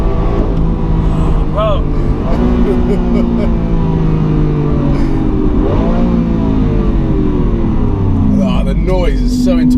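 A Lamborghini in ridiculous mode revs hard on the road, its loud engine note climbing and falling in repeated pulls with gear-change dips, while people talk excitedly over it.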